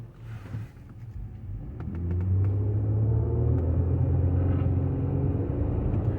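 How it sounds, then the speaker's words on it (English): A Nissan Murano accelerating from a stop up to about 20 mph, heard from inside as a low engine rumble that builds and then holds steady, with faint clicks in the cabin. "Get it up to speed, get it to 20 miles an hour."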